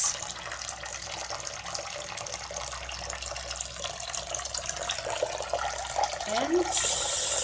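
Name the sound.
water running from sink faucet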